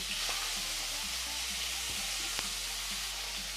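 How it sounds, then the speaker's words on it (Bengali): Cut eggplant sizzles steadily in hot oil left from frying potatoes, a close, continuous frying hiss with faint stirring clicks. "এখন এই একই তেলের মধ্যে দেবো কেটে রাখা বেগুন।"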